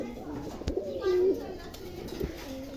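Mundian pigeons coo softly in a loft, producing a few low murmuring calls with a brief tapping sound, while a person talks over them.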